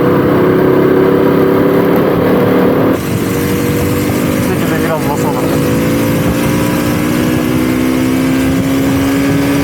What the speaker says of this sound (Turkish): 125 cc olmasına rağmen ve orijinal stok egzoz üzerinde olmasına rağmen gerçekten güzel bir ses veriyor